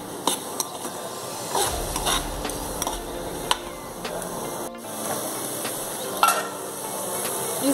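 A spoon stirs thick tomato pizza sauce in a pan, with a low bubbling simmer under repeated sharp clinks and scrapes against the metal.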